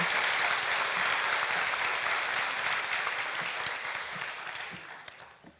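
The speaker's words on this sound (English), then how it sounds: "let's give her a big round of applause" Graduation ceremony audience applauding, a thick, steady patter of many hands from a distance that gradually thins and fades out over several seconds.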